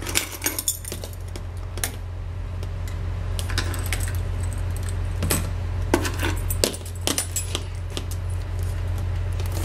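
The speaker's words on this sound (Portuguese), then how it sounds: "e agora eu vou botar as chaves" A bunch of keys jingles and clinks as it is hung on a homemade key holder, making repeated metallic rattles in short bursts over a low steady hum.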